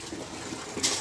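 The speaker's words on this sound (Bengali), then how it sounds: "পাবলোকে স্নান করাবে ঠাকুমা।" Water running while a Labrador dog is bathed, a soft continuous splashing trickle with a brighter hiss of spray near the end of the brief moment.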